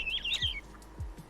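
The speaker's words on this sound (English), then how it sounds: "so we don't have to listen to the birds" Birds chirp and squawk in a Minecraft Create: Astral modpack world, a quick run of bright, fairly faint calls over low background hum.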